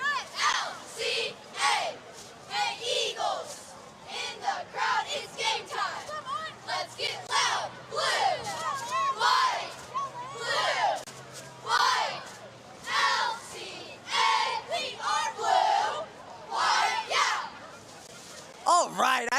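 Crowd at a Kentucky high school football game, North Hardin vs. LCA, cheering and chanting in rhythmic bursts with a dance team, loud and continuous over nearly twenty seconds, voices shouting together in waves.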